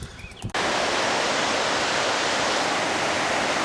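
Whitewater river about a mile upstream of Slatington, running near 500 CFS: a dense, steady rushing roar that cuts in abruptly after a brief quieter moment and continues unbroken, loud and close.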